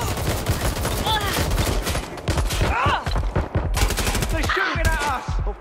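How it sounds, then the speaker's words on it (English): Video game gunfire in Watch Dogs: Legion: dense bursts of automatic shots and rapid volleys crackle almost continuously, loud and close, with brief voices and game sounds mixed underneath. "They're shooting at us."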